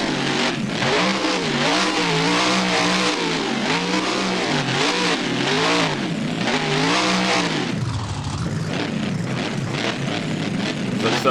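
A monster truck engine in BeamNG revs hard at a Soldier Field freestyle show, its pitch rising and falling in repeated swells, loud and close, then dropping to a rough idle near the end, with no voices.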